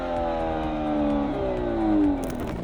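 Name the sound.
Hyundai car exhaust popping and revving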